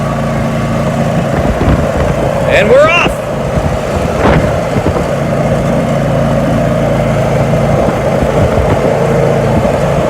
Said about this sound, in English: we have a plow filled with bricks hooked up to the tractor